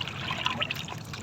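Water splashes and laps around a small one-person boat on a choppy sea, a continuous close wash of sloshing and trickling with irregular bright splashes.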